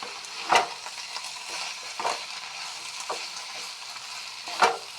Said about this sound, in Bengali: এখন ভালোভাবে নেড়ে নিচ্ছি।